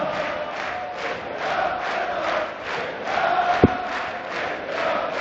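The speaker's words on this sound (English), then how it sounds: "the crowd clearly loving the dart" A darts crowd at a European Grand Prix quarter final roars and chants in rhythmic waves that swell and fall, loud and steady throughout, with a brief sharp thump partway through.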